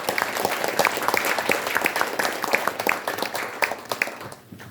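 An audience at a ceremony in Korea applauds, individual claps clearly audible within a lively ovation that holds steady, then thins out and fades away near the end.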